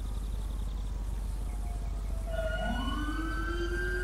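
Emergency vehicle sirens from GTA 5 arrive as fire and ambulance units reach a scene. One siren wails in and rises in pitch over a low engine rumble, with no talking.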